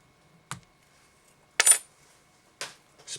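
Spare tubing snipped off a pink popper sailfish tube fly, heard as three short, crisp cuts spaced about a second apart in an otherwise quiet room.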